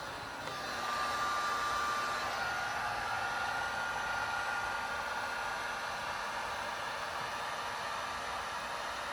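A heat gun warms the edges of 3M gloss black rose vinyl wrap on a Subaru BRZ hood, producing a steady, close, continuous airy blowing roar with a faint whine that holds level throughout.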